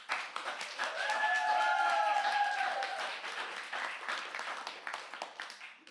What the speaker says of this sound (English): Please give a warm, warm round of applause for Julie Baird, who is reading Throstle and